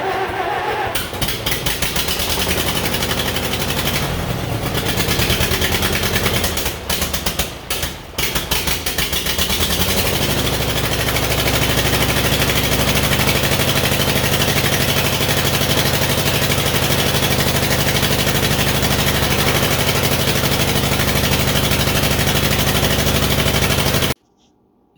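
A Case DI tractor engine cranks with uneven sputtering for several seconds, then catches and settles into a steady, loud, rough idle in neutral before cutting off abruptly at the end.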